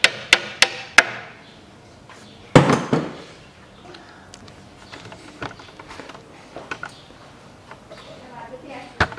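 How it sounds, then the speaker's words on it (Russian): Hammer blows strike a Peugeot 407 2005 1.8 front suspension part during stabilizer link replacement: several sharp metallic hits, a heavier whack, then lighter taps and tool clatter in a workshop. "Берем молоток."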